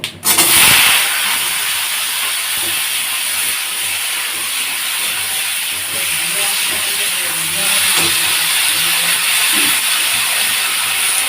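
Mango and tomato hit hot oil with mustard seeds in a pan for chutney, giving a loud, steady sizzling hiss that flares at the start and then holds evenly.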